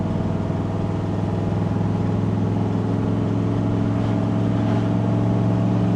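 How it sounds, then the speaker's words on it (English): A 1967 Chevrolet Corvette with the L71 427 engine rumbles steadily through its side pipes, a deep, loud, continuous drone that holds even throughout, with no talking over it. "Side pipes sound magical."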